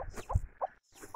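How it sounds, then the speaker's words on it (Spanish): A hen clucks softly beside her chicks in a rural yard, giving a few short, faint calls with small chirps in between. "hay una gallinita con sus pollitos"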